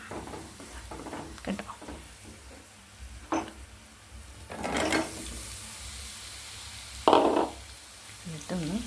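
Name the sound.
marinated mango pieces sizzling in hot oil with onions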